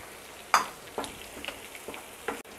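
Ground poppy seed and coconut masala fries in a pan as a soft, steady sizzle runs under a few sharp spatula scrapes and stirs.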